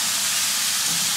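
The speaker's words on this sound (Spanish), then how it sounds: "Hay que sofreírlo muy bien, así con el aceitito" Paprika fries in olive oil with a loud, dense, continuous hiss and sizzle, close and unbroken, with no talking.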